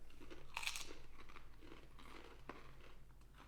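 Kettle Brand Bourbon BBQ potato chips, thick-cut and not crinkle-cut, crunch between the teeth in a few sharp, close bites followed by quieter chewing, with no talk over them.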